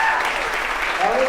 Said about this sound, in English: Let's give another round of applause to all our leaders. A big round of applause.